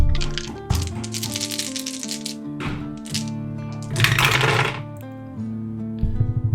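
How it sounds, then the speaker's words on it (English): Handfuls of dice for a Pathfinder 2e tabletop session rattle and clatter in bursts against a hard surface, several separate rolls tumbling over soft background music. "I don't think I've ever rolled this much dice in Pathfinder."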